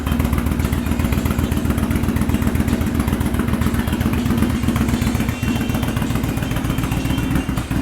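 A Yamaha Drag Star 1100 cc cruiser motorcycle runs close and loud, its V-twin engine pulsing in a dense, rapid, uneven rhythm that holds steady throughout with no talk.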